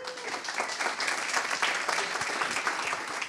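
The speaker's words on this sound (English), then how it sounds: "So please give him a huge round of applause." A crowd at a marketing meetup in Cambridge applauds, a continuous patter of many hands clapping at moderate volume that rises slightly and holds steady.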